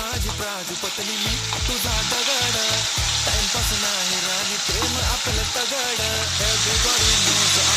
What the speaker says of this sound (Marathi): चांगलं परतून घ्यायचं आहे, तांबूस रंग होईपर्यंत परतून घ्यायचं आहे सर्व